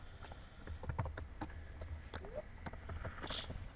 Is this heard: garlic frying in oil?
no